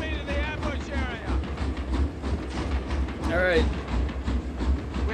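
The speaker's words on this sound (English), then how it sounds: "The train is moving out!" A video game train rumbles along the rails with a steady low drone and clatter, while a voice speaks briefly over it.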